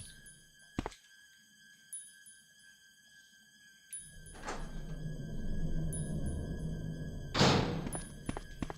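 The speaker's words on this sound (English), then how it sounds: "But I'm going to go ahead and reload our Python." Reloading a Python revolver in Resident Evil: a sharp mechanical click and thunk, then a low rumbling stretch and a bright metallic snap as the cylinder closes, close and moderately loud over a quiet game ambience.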